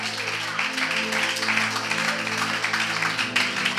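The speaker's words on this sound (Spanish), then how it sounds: "Dale un aplauso al Señor" A church congregation claps in praise during a sermon, a busy patter of applause laid over sustained, low musical tones from the sanctuary.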